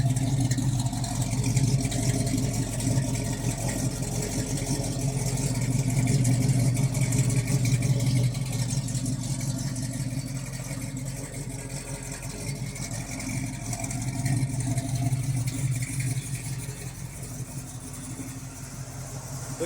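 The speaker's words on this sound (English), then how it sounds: "We gotta hear the exhaust." A 1970 Ford Torino GT muscle car's exhaust idling, a loud, close, deep rumbling burble that swells slightly and settles, steady throughout with no talking.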